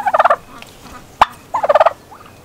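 A chicken in a garden gives two quick bursts of rapid, close clucking notes, with a single sharp click between them.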